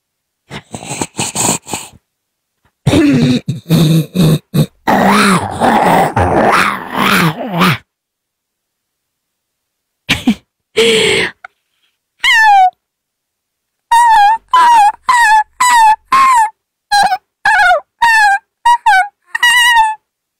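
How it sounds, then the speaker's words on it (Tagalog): A dog that got caught or pinched whimpers in a series of short, high, squeaky whines that come in rapid bursts, following earlier louder groaning sounds. "Naipit na aso."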